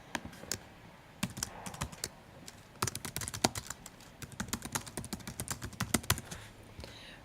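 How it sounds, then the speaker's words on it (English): Typing on a computer keyboard, irregular bursts of close, crisp key clicks with short pauses between words, no talking. "And I could type in a message here if I wanted."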